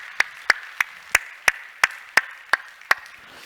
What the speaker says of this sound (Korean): 여러분 박수로 한번 격려해 주시죠